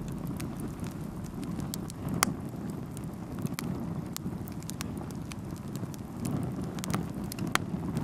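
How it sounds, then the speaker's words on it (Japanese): Freshly cooked food crackles with many sharp, irregular pops and ticks over a steady sizzling hiss, close and continuous throughout. "このパチパチがいい音ですよ"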